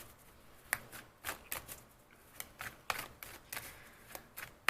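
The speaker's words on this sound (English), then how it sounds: "you don't have to watch the whole shuffling process" Tarot cards are shuffled in quick, crisp riffles and soft flutters, a series of short bursts close to the mic in an otherwise quiet room.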